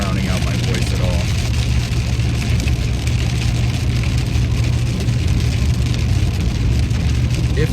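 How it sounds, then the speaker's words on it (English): Steady heavy rain pours throughout, a dense continuous wash of drops on surfaces with a low rumble underneath, loud and unbroken from start to finish. "I really hope the rain isn't drowning out my voice at all."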